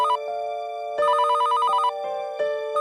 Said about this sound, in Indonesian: telepon tua itu kembali berdering.